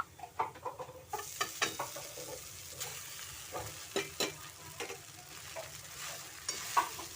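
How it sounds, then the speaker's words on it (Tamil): Poha (flattened rice) is roasted and stirred in a pan, a faint dry sizzle broken by repeated light scraping and tapping strokes of a spoon. "அவுளை நல்லா வறுத்துடுங்க ஒரு அஞ்சு நிமிஷம் வறுத்துடுங்க"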